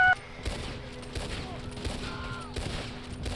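Scattered gunshots in Red Dead Online, several distant, fairly faint pops spaced irregularly over low ambient game noise.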